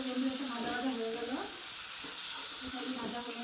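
Mustard flowers sizzle in a pan with garlic, black cumin and chili, a continuous close frying hiss broken by soft stirring scrapes, with a few faint voiced sounds mixed in.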